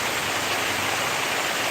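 Torrential rain pours down in a steady, dense roar on a street where CNG auto-rickshaws pass, close and loud, unbroken and with no voices.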